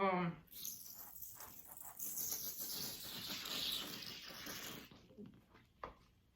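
Warm water pours onto wool for felting, splashing and trickling steadily for several seconds, a soft wet hiss close by, then fades to quiet with a small splash near the end.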